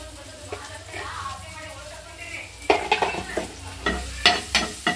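Masala with tomato and onion frying in a pan for vegetable Maggi, a steady sizzle with stirring and sharp spatula scrapes against the pan growing louder and more rhythmic in the second half.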